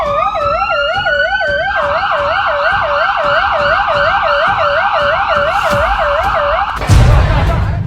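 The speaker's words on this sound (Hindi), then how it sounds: "एम्बुलेंस की आवाज कानों में गूंज रही थी।" An ambulance siren wails loud and close at New Delhi Railway Station, a continuous rising-and-falling electronic tone with road rumble beneath, cut off near the end by a burst of noise.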